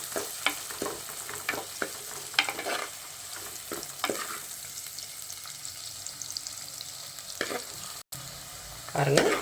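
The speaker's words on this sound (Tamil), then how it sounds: "இந்த வெங்காயமும் நல்லா பொன்னிறமாக வதங்கணும்" Onions sautéing to golden in a pan for a dry fish curry, a steady close sizzle with repeated scraping stirs, a brief dropout near the end.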